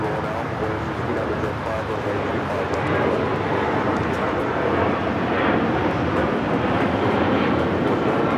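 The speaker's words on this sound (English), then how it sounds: "That is American Airlines 1972 taking off to Dallas, Fort Worth on the A321." An American Airlines Airbus A321 takes off at LAX, a steady, loud broadband jet roar that holds throughout with a faint barking dog and a voice talking over it.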